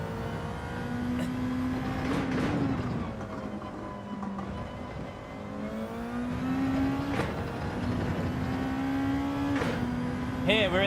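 A GTR 16 race car engine in Gran Turismo 7 drones and revs steadily through a lap, with pitch rising and dropping through gear changes and faint tyre noise, while someone talks over it.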